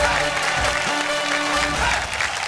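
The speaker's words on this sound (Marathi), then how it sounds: "एकदा जोरदार टाळ्या होऊ द्या." A studio audience at a Marathi television show claps loudly in a sustained burst of applause, dense and even across the whole stretch with a faint voice beneath.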